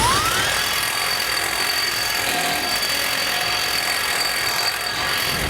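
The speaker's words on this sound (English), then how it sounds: "you can take a drill bit and we'll just kind of ream out that hole" A drill bit reams out a bumper bracket hole while a Blue Ox base plate kit is fitted to a 2021 Jeep Gladiator, giving a steady, loud whirring grind that runs without pause, with no talking.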